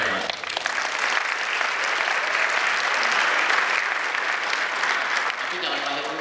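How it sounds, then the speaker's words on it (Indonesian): Sustained applause from a hall full of new university students at an Indonesian campus induction ceremony, steady, dense clapping that holds for about six seconds before easing slightly. "Tepuk tangan buat Mas."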